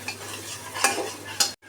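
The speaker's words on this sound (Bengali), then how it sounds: "এখন ভালো করে মশলাটা কষিয়ে নেব" Nihari spice masala being stirred and fried in a pressure cooker: a soft sizzle under two quick metal spoon scrapes against the pot, close and brief, ending abruptly.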